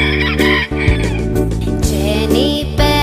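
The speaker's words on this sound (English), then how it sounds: "Jenny Penny, my black hen" A black hen clucks against a busy backdrop of music, its cackling notes repeating in short bursts through the clip at a loud, steady level.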